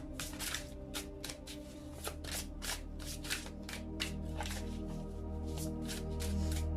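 Tarot cards shuffled by hand in quick riffling bursts, close and fairly quiet, with a low steady hum underneath.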